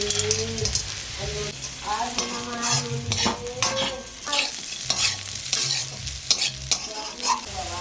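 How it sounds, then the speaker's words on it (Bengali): A spatula repeatedly scrapes and stirs fried potatoes and peanuts through hot oil in a pan, with steady sizzling and a busy rhythm of close clatters and scrapes. "আমার আলুগুলো ভাজা হয়ে গেছে ভালোভাবে। এরপর আমি দিয়ে দেবো ভেজে রাখা বাদামগুলো"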